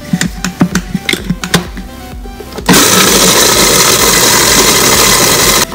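A food processor whirls sunflower seed butter caramel with salt, starting after a few soft knocks and clicks with a sudden loud, steady grinding whir that continues evenly to the end, with no voices.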